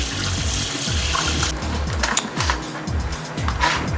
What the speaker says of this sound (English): And another quick rinse.